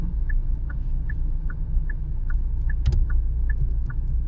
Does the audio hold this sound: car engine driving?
yes